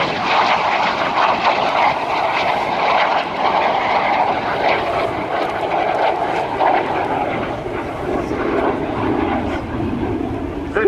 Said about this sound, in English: Now I'm going to fade the music and listen to the sound of the jets.